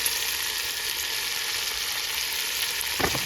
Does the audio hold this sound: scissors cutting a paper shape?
no